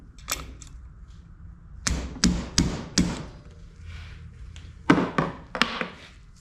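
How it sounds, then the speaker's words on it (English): Sharp hammer taps on a metal part of a Mazda RX-7 in small bursts: a single tap, then a quick run of four, then a few more near the end, close and fairly loud. "I'll get a hammer out and tap the back of it."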